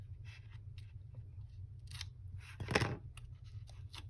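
Scissor tip lifting and snipping paper while assembling a one-sheet pocket album, a brief close crisp cut and scrape standing out over a steady low room hum.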